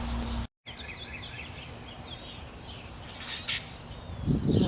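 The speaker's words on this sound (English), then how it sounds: "think you can see those two birds in the middle. It's like they're having a discussion." Two garden birds trade short chirping calls, fairly faint against a soft outdoor background, with a brief dropout near the start and a louder rustle toward the end.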